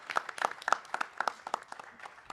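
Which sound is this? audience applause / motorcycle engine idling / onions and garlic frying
audience applause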